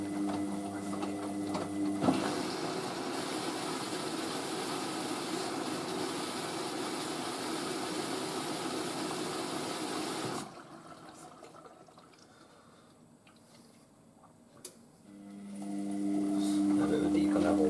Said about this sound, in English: So the rinse is a slow tumble, a bit irritating, but can't complain, it seems to do a good job.